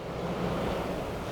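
Sea waves surging against an ancient stone structure, a steady broadband wash of surf with wind noise, continuous and fairly loud with no voices.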